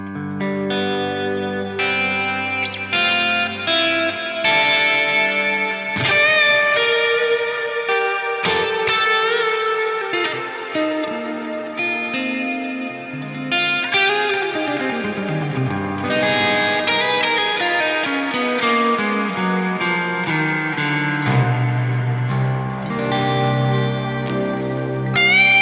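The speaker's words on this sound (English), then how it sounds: "But even with all this reverb and delay, you can still hear every note." Electric guitar played through an Archetype Rabea synth plugin with heavy reverb and delay, sustained shimmering notes and sliding chords smearing into long echoing washes, loud and continuous with no talking.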